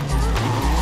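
BMW in a racing video game sliding sideways through a drift, with loud, close tire squeal and engine roar holding steady over the whole short burst and no talk.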